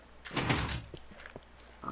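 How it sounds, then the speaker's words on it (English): A pig in the Minecraft video game gives a short grunting oink, followed by a few faint clicks and game noises, quiet and alone. "Ooh, you're a pig."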